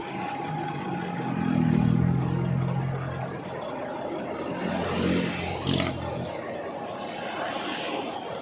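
Road traffic with car engines in the Philippines: a rumbling engine swells up close early on, then further vehicles rev and pass at mid distance over a steady hum.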